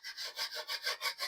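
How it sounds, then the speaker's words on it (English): Dried first-coat drywall mud being sanded with quick, rhythmic rubbing strokes, about eight gritty swipes in steady succession, close and fairly loud with no voices. "That's all the sanding I'm doing."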